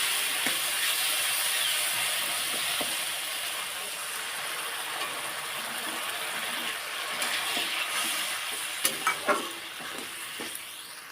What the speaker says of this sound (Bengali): এই পর্যায়ে জল দিয়ে দেবো